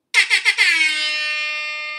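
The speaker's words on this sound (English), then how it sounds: "I want an air horn introduction anytime I'm anywhere." An air horn blasts four short stuttering honks, then holds one long, loud, blaring tone that sustains to the end.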